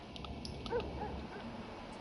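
Dogs in the video game Vampyr give faint whimpers and yips over a low ambient game backdrop, with brief distant cries rising only once.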